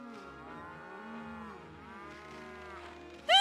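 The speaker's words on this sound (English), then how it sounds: "so happy moo-moos" Cattle mooing in the Okami HD Remaster game, several long, drawn-out moos overlapping one another at a steady moderate level, with a brighter, sharper chime-like sound rising at the very end.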